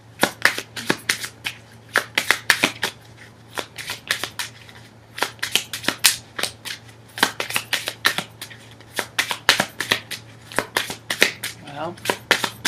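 A deck of Lenormand cards being shuffled by hand, many crisp rapid riffles and flicks in bursts close to the microphone, with short pauses between bursts.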